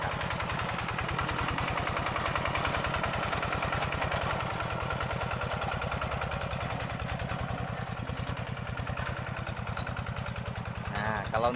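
A tractor engine runs steadily as it levels a flooded rice field, a close, continuous low throbbing chug with a heavy rhythmic pulse and a voice heard intermittently over it.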